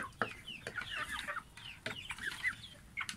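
Australorp and Rhode Island Red hens cluck softly at close range in a farm setting, with a busy run of short, overlapping clucks and chirps.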